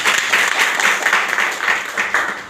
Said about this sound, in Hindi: तो एक बार जोरदार तालियों के साथ